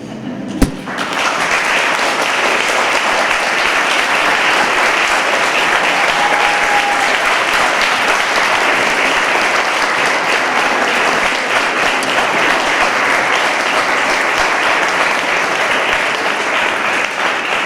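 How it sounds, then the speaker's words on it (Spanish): A large audience at a book talk breaks into sustained, loud applause that fills the room steadily from start to finish, with no pause or letup. "con este hermoso aplauso le agradecemos a Bord por haber estado"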